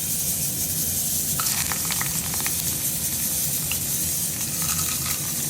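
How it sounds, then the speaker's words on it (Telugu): Sizzling tempering for a Telugu cucumber chutney, spices crackling in hot oil, a steady close hiss with scattered pops throughout. "ఇది దోసకాయ పచ్చడి తాలింపు అండి."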